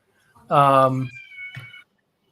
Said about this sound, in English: His cat's being really ornery.